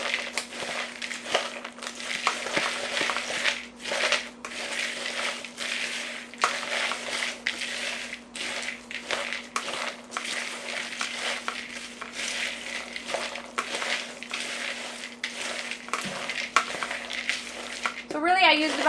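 Pumpkin seeds being mixed with a little salt in a dish, bright crunchy rattling and scraping that comes in repeated bursts throughout, with a faint steady hum underneath.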